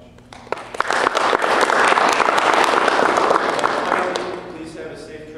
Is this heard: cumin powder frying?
no